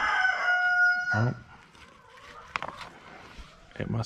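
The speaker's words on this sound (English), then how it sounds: "it must be morning. The rooster's crowing." A rooster crows on a farm in the first second, a long harmonic call, then short clucks and faint bird sounds; a person talks nearby, with some rustling underneath.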